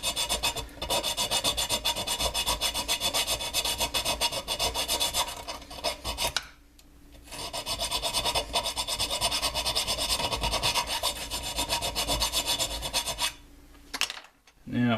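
Steady, loud rasping strokes of a hand file working the enclosure of a DNA 75 box mod, continuous scraping with a brief pause midway and a short break near the end, no talk.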